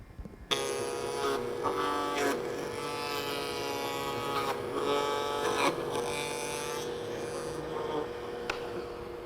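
A router cuts a 1/4 inch deep rabbet into 1/4 inch acrylic for a handle. Its high, buzzing motor whine starts abruptly and runs steadily, its pitch and grit shifting as the bit bites into the plastic.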